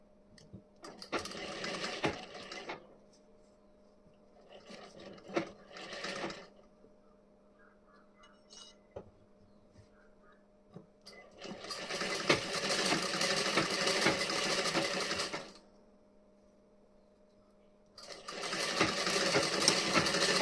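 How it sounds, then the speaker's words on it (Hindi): A sewing machine stitches a blouse in loud, close bursts of rapid whirring, separated by quiet pauses, with no talking. "अब यहाँ पे मैं सिलाई लगा दे रही हूँ।"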